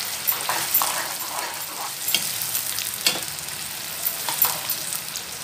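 Two large sliced onions deep fry in hot oil for Hyderabadi chicken 65 biryani, a bright steady sizzle with repeated scraping stirs rising and falling throughout.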